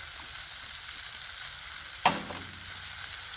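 Bacon sizzling in its own fat and oil on a Blackstone griddle, a steady close hiss throughout with one brief sharp scrape or clink partway through.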